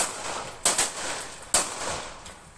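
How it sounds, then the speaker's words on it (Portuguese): Three sharp gunshots crack out during a robbery, two close together then a third a moment later, over a steady background hiss. "Enquanto ela tenta argumentar com os assaltantes, tiros são disparados."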